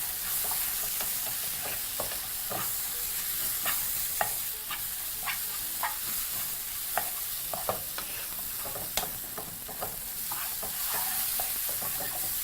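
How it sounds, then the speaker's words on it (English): Omena fish and tomatoes fry in a pan while being stirred, a continuous soft sizzle broken by repeated scraping clicks and light taps of a utensil against the pan. "Just add that to the pan and proceed to mix everything together once more."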